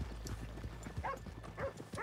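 Horse hooves clip-clop at a steady walking rhythm in Red Dead Redemption 2, several animals close by on hard ground, with faint snorts between the steps.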